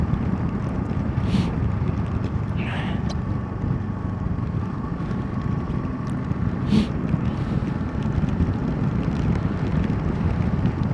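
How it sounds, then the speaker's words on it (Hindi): Strong wind roars during a snowstorm in Spiti, a loud, constant broadband rush buffeting close by with no letup, occasional faint thuds and squeaks mixed in and no speech. "बट इतनी तेज़ विंड्स आ रही हैं और बहुत तेज़ स्नो आ रहा है।"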